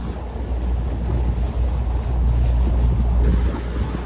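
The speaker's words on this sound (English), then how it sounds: "Got two boats coming." Motorboat engines rumbling low across open water, mixed with wind buffeting the microphone and the wash of waves.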